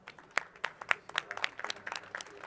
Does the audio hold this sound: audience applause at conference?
yes